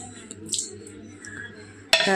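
Washed dishes are put away quietly, then a sudden clatter near the end as a pot or plate is set down with a ringing clink.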